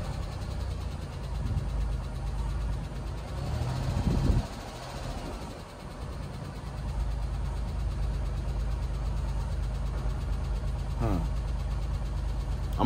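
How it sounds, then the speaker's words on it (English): A car's engine idles steadily at an auto auction with a suspected lifter tap. The running is close and constant, with a brief rise in engine noise midway and voices faintly in the background. "I'm gonna let it run for a little bit, see if the lifter tap go away by the time we get back"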